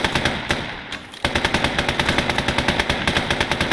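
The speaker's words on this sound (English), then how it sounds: "we have the Hotchkiss, and we can just fire some rounds off" A Hotchkiss machine gun in the Gates of Hell World War 1 game fires rapid, evenly spaced bursts of loud, close shots, with a brief pause before the steady rhythmic stream resumes.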